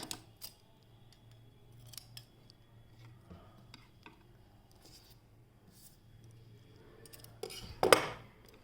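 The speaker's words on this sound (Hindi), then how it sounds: "ये वाले वाइट वाले थ्रेड को हम काट के हटा लेते हैं" Scissors give a few faint, sparse snips through white thread on a hand-knitted hat, ending in a sharper, louder cut near the finish against a quiet room.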